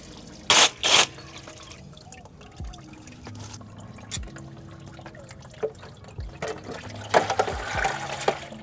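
Fluid draining from the underside of a Mazda BT-50 with no drain plug, heard as scattered drips and trickles at close range, with two louder splashy bursts near the start and a busier patch of dripping toward the end.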